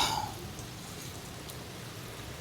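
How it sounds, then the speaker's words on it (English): Pea-size hail falling outdoors on a rural property, a dense steady hiss of pellets striking surfaces that holds even throughout, close and continuous with no talk. "that's the most hail I've seen since I've lived on this property for nigh on 8 years"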